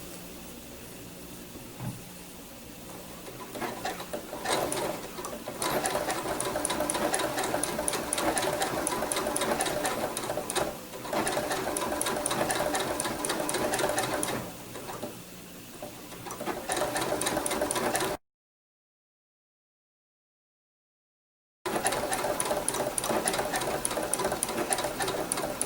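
A sewing machine running a blanket stitch to bind a quilt, long stretches of rapid rhythmic stitching close up, broken by brief pauses and a silent gap.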